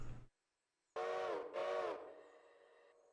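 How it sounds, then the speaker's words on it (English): A steam locomotive whistle in the Railroader video game gives two loud blasts, the second longer and trailing off into a fading echo. "That wasn't the right whistle."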